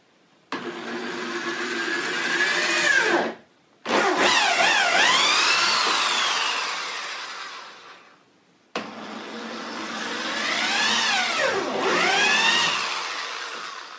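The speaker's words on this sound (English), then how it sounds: "now I'm going to use my drill to put a pilot hole into each of these spots" Power drill boring pilot holes into a DIY makeup vanity mirror with lights: two long loud bursts of whining motor, pitch rising and falling as it spins up and bites, separated by a short pause.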